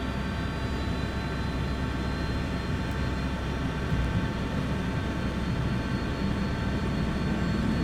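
A Sabreliner business jet at full power on its takeoff roll in the Prepar3D flight simulator: a steady, loud, continuous engine roar with a broad rumble and faint high whine, unbroken and with no talking.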